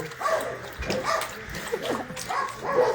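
Several dogs bark and yip at an animal shelter, overlapping short barks at mid distance in a busy, reverberant space.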